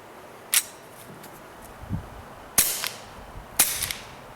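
A suppressed Walther PPQ .22LR pistol fires three sharp, muffled cracks spaced a second or so apart outdoors, each followed by a short tail, with a soft low thump between the first two.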